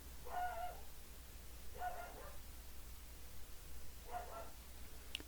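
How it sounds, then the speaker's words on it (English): Three muffled dog barks spaced a couple of seconds apart, heard faintly in the distance over a steady background hum. "Can you hear my dog barking?"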